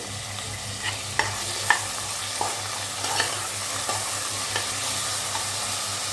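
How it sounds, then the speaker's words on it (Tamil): Tomatoes and onions fry in a pan with a constant sizzle, punctuated by soft spatula scrapes and taps at irregular intervals, close and moderately loud. "இப்போ தக்காளி போட்டுக்கலாம்."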